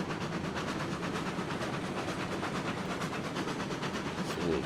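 A train in the RailRoads Online game runs along the rails with a steady rhythmic clickety-clack and a rumbling engine, continuous and close, with no talking.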